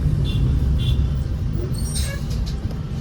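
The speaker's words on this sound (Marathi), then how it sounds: "ट्रॅफिक पण आहे" Busy road traffic with a passing bus in a town street in Chiplun, Ratnagiri, a continuous close rumble of engines with a brief higher tone, loud and steady throughout.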